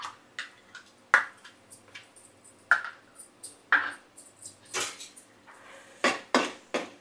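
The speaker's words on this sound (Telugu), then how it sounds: "పచ్చి వాసన రాకుండా ఇలా వేయించుకోవాలి." Ginger-garlic paste fries in a pan for a Konaseema-style jackfruit curry, heard as a series of sharp metallic spoon scrapes and taps against the pan over a faint low background, close up with no voices.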